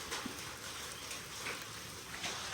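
Rain falling together with hail during a summer storm, a dense steady hiss with scattered soft taps, faint and continuous with no voices.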